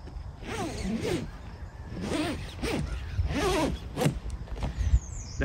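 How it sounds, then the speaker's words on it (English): A zipper on an Ultimate kayak cover is pulled along over the boat in about four drawn-out, rising zips, close and clear with no talking. "put the bow of the cover over the boat and begin zipping it."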